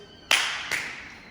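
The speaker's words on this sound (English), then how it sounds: "This time you're going to clap in front of you and clap behind you." Two sharp hand claps, one in front of the body and one behind, during a home PE coordination exercise for children; close, clean and spaced about half a second apart, each with a short room tail.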